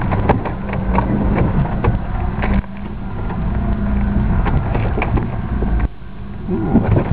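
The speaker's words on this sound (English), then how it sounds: "No problems apart from the noise of the trailer bouncing up there." Rattling, thumping clatter from a trailer bouncing along behind an off-road Suzuki on a rough track at Labertouche, Victoria, with irregular knocks over steady engine rumble and wind buffeting on the microphone.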